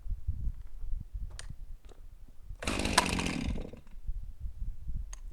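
A flooded chainsaw being cranked while cutting small hemlock logs, with low sputtering pull-start thumps followed by a single one-second roar as the engine briefly catches, then dies back to rough sputters.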